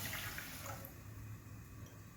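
Half a litre of water pours into a kadai over a lit flame, a faint splashing flow that fades after the first second into a quiet steady hiss.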